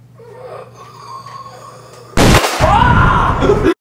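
A loud, close burst of movie-scene gunfire erupts after a quiet stretch of faint background tones, then continues as a dense, crackling barrage before cutting off abruptly.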